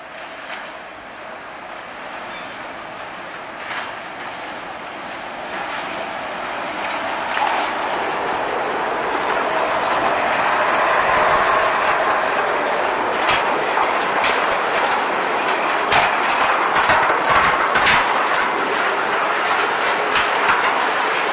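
Sugar cane lorry train at the PG Semboro sugar mill running in convoy, with steady rolling rumble and rhythmic clickety-clack of wagon wheels over rail joints, close and continuous, growing slightly louder midway.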